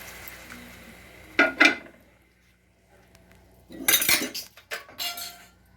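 Metal spoon stirring tamarind juice into a prawn curry in a pot, with two bursts of close scraping and clinking against the pot separated by a quiet pause, then a few more clinks.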